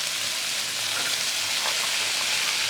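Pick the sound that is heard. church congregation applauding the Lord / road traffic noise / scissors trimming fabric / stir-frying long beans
stir-frying long beans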